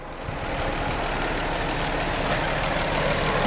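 The V6 3.5 liter engine of a 2006 Nissan Quest runs steadily, giving a close, even, broadband hum with no talk over it.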